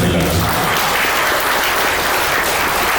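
Sustained applause from an audience at a film pre-release event, a dense, steady wash of clapping that stays loud and even throughout without a break.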